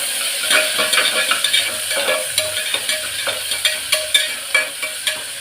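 Onion, green chilli and curry leaves fry with popped mustard seeds in hot oil, a loud steady sizzle broken by regular spoon scrapes and stirs close by.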